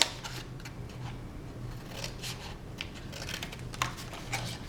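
Scissors cut the corner squares out of paper for a flip top box, giving a quick series of crisp, close snips and rustles.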